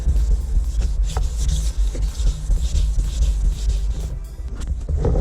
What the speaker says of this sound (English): Get your 2000 and start sanding again.